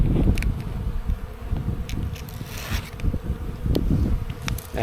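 Honey bees buzz at a beehive during a non-invasive inspection, a dense, close drone of many wings with individual bees zipping past the microphone, loud and continuous with no speech.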